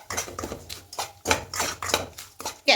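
Semolina being stirred and fried in a pan with crushed small cardamom over a medium gas flame, heard as repeated scraping and clinking strokes of a spoon against the pan in an irregular rhythm, close and fairly clear.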